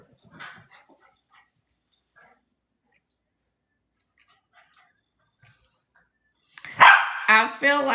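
A dog barks loudly near the end after a long near-silent stretch, a short burst of sharp, close barks preceded by faint scattered rustles and ticks.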